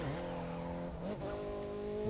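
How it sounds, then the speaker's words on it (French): A car engine in the racing game The Crew 2 roars steadily and loudly, its pitch dipping briefly as it shifts, then climbing and holding at a sustained high drone. "J'adore le bruit des moteurs et tout."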